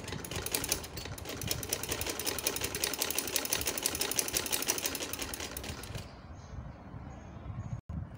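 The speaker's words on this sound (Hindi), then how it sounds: "इस कट को बंद करने के लिए आपने साथ साथ रख कर एक और सिलाई लगाते जाना है।" A sewing machine runs a continuous rapid stitching burst along a trouser seam, fast even needle clatter for about six seconds, then stops, leaving quiet room tone.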